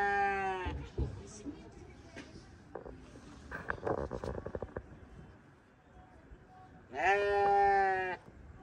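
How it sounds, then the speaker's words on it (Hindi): Sheep bleating in a mountain village near the China border, two clear drawn-out bleats at the start and end with rustling and faint activity between them. "ये देखो भेड़े हैं लेकिन दो ही हैं"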